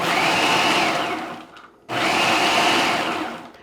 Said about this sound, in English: We're going to put the top on our food processor